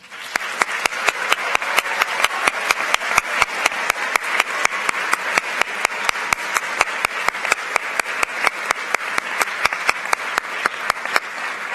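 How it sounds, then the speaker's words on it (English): Audience applause for gold award winners at a school awards ceremony, steady unbroken clapping from a large seated crowd with a few sharp, distinct near claps standing out rhythmically throughout. "Gold winners, please rise to receive our applause."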